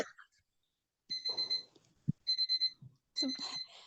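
An alarm rings in three bursts of steady two-tone beeping, each about half a second long, with short gaps between them. It is fairly clear, and a faint voice murmurs between the bursts.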